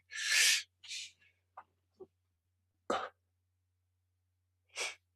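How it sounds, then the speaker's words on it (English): A sharp, loud sneeze bursts out, followed by a few small breathy sounds and sniffs, then another short sneeze-like burst a couple of seconds later. "I've got a sneeze coming up, so do excuse me."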